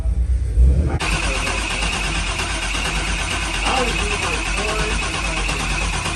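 A Trans Am with a 408ci engine being cranked to build oil pressure, a steady loud mechanical churn with whirring that runs without pause after a sudden start, close by.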